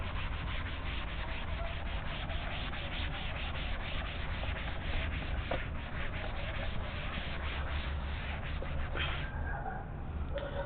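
Writing is rubbed off a classroom board, giving continuous, faint, scratchy rubbing strokes in a steady rhythm with no voices.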